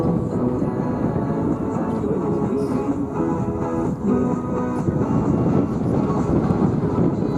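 Aircraft flying a tight-formation photo pass at the Sun 'n Fun 2024 airshow, a steady broadband engine roar with wind buffeting the microphone, loud and continuous throughout.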